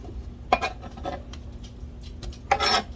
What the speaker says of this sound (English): So we're just gonna scoop it up, throw it in the bowl.